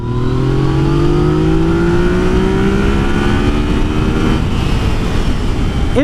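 Yamaha XSR900 motorcycle accelerating hard at full throttle, a loud sustained engine roar with rising pitch sweeps through the gears, heavy wind rush underneath.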